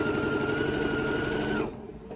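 A sewing machine stitches quilt pieces chained with a leader scrap in one steady, loud continuous whir that stops abruptly near the end.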